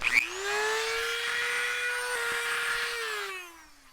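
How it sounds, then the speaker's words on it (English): A power tool fitted with a sanding disc whines up to a steady high-pitched spin for about three seconds, then winds down, close and loud with no talking. "I'm gonna use like a sanding disc."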